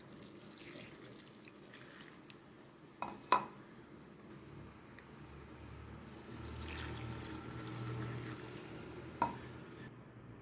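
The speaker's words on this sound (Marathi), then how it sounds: "इथे मी गरम पाणी करून घेतलेलं आहे आणि ते यामध्ये मी घालून देते." Hot water is poured over bajra vade in a bowl to soak them, a soft splashing pour with a couple of sharp clinks of a vessel, fairly faint and close.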